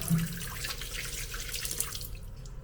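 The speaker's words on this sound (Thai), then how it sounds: "ดึงออกเลย น้ำไหลจอกจอกเลย" Water running from a hotel tap in Ao Nang, Krabi, a steady broadband splash and patter close by, with no one talking.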